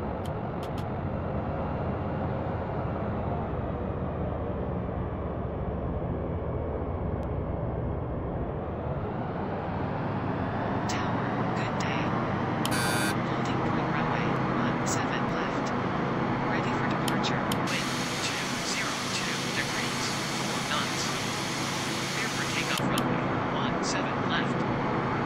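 A Passaredo ATR 72 turboprop airliner on its takeoff roll from São Paulo, a steady loud engine drone heard from the cabin that swells as power rises, with faint rattles and a voice briefly over it.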